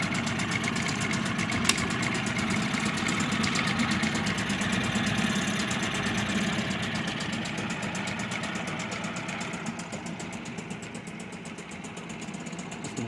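A vintage 1966 Mercury 39 outboard motor idles with a continuous rough, buzzing rumble that ticks rapidly, holding steady and fairly close throughout, easing slightly toward the end.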